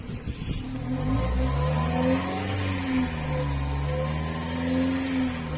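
A used car's engine, one that burns oil when cold, revs as the accelerator is pressed, a loud, close engine note that rises and falls in a couple of swells over a steady idle, with no talking.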